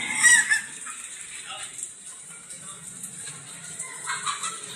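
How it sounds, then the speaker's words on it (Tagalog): Chickens cluck and squawk at a moderate distance, with geese nearby, a busy burst at first and then scattered calls over a low outdoor background. "And then ang taon-taong manok ni Tito Sing kag iya mga gansa."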